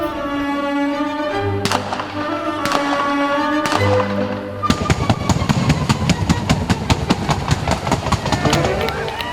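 Paint cannons fire for a Sony Bravia ad shoot, beginning with a few heavy bangs between sustained tones and then a rapid, loud crackling string of dense pops and bursts.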